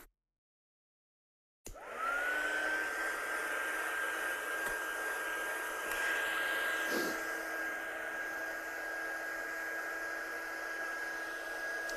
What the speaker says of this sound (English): So I'm just going to dry this one off.